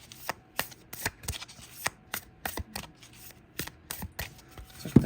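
A deck of malleable cards with a core being shuffled, giving a run of crisp riffling bursts repeated about a dozen times at close range, each a sharp flutter separated by short pauses, with no talking.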